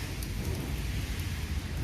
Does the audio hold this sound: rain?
yes